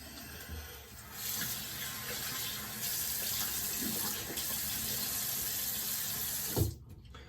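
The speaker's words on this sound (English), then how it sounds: "let me wipe this off with some water" A tap runs steadily to rinse off shaving lather, a soft, even splash of water into a sink that continues for several seconds. Near the end a brief clunk sounds, then the flow stops.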